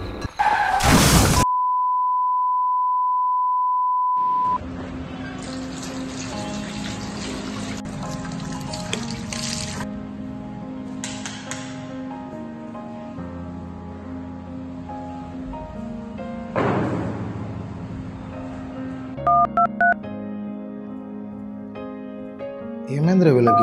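A phone call that won't connect gives one steady, loud electronic tone lasting about three seconds, then music with a few short beeps carries on in a tense horror short film.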